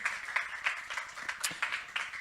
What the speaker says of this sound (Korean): 우리 주님께 크게 한번 박수 한번 할까요?